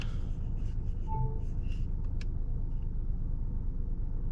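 A 2021 VW Golf 8 with a 1.0 TSI 110 hp engine pulls away, a low steady engine rumble inside the cabin with a few faint clicks and chimes early on.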